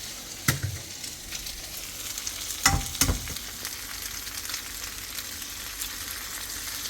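Eggs sizzle in a pan of frying potatoes during a home lunch, a soft continuous crackle broken by a few sharp clinks and scrapes of a utensil, with no talking.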